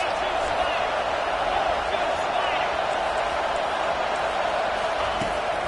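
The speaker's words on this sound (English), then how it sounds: "These fans are going absolutely nuts." A packed college football stadium roars on third down in a Nebraska vs Texas game: a loud, unbroken crowd din with an announcer's commentary running over it.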